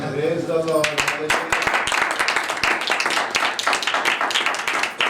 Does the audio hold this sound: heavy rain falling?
no